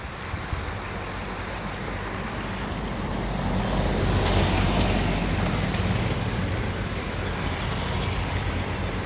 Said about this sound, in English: That's water rushing past these trees.